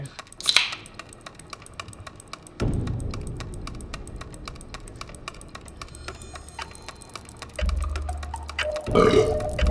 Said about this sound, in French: sais-tu que la seule manière que je suis capable de roter, c'est si je cale une grosse bière?